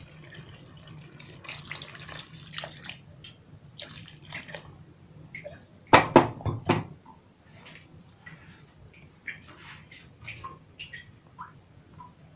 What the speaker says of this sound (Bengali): এবার আমি এখানে গরম জলটা দিয়ে দেবো আলুটাকে একটু সেদ্ধ করার জন্য